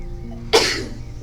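A single sharp sneeze bursts out once, loud and close, over a quiet room hum with no talking around it.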